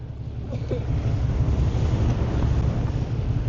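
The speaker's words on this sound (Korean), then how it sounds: "뭐 태풍급 수준으로 바람이 부는데" Strong, near-typhoon wind roars steadily across the microphone aboard a fishing boat on the East Sea, Korea, with the wash of waves and a low rumble underneath, continuous and loud throughout.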